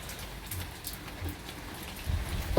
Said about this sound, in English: Very rainy out here.